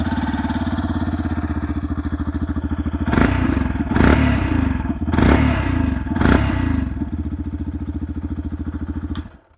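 A Yamaha FZS V4 Hybrid 149 cc motorcycle engine idles steadily with a bassy rumble, then gets four short blips of the throttle in succession before cutting off near the end, heard up close with no talk.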